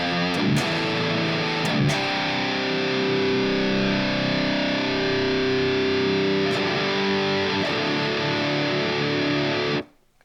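A crushing metal guitar tone dialed in on a Fender Tone Master Pro, one thick, heavily distorted chord held and ringing for about ten seconds, with a few brief pick scrapes before it cuts off sharply.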